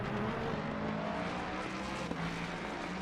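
GT3 race cars at Snetterton during a British GT round, engines held at low revs, give a steady, unbroken mechanical drone for about three seconds with no voices.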